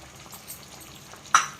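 Gongura mutton with fresh coriander is stirred in a pan, giving a low sizzle with soft scraping, then one sharp close clack of a spoon against the pan near the end.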